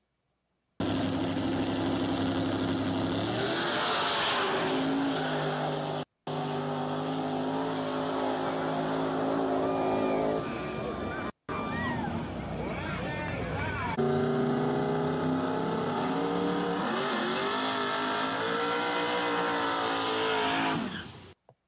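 The King Turd race car drives by with a loud, continuous engine roar. The pitch rises and falls as it revs, and the sound cuts out briefly a few times. Voices are heard underneath.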